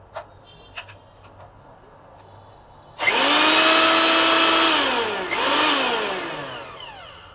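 An electric mixer grinder starts up loudly after a few faint clicks, its motor whining steadily near at hand with a pitch that dips and recovers as the blades grind the ingredients, running alone without talk.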